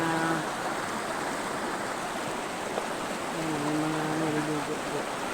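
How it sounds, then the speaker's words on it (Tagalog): A strong river current rushes in a steady, broadband wash, with low background tones briefly rising over the constant flow. "So napakalakas po ng agos oh."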